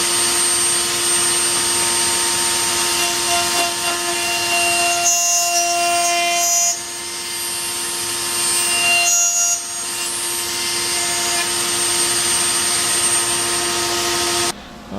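A table saw with an Incra fence hums loudly and steadily while cutting a quarter-inch-deep groove in a wooden whistle block, the pitch dipping briefly twice as the blade bites into the wood.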